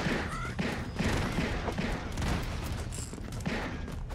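Cannon and gunfire in the side-scrolling action game Broforce, a dense, continuous barrage of booms and shots filling the whole stretch with no gaps.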